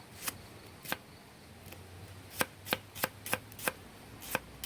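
Pork being sliced into thin pieces on a wooden board for a Thai pork salad, heard as about ten sharp knife chops in an uneven rhythm, close and clear, over a low outdoor wind rumble.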